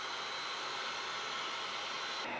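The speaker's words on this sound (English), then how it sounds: "Right here I have a Wagner heat gun." A Wagner heat gun blows hot air to dry fake skin, giving a constant close, airy roar with no breaks for the whole brief stretch.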